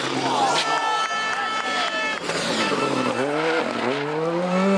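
Rally cars such as a Lancia Delta and Toyota Yaris are thrown through a handbrake turn, with loud engine drone and rising tire skid squeals, while excited voices talk over it throughout.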